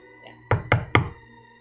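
Three firm knocks on a door in quick, even succession, close and distinct against a quiet background with a soft low hum.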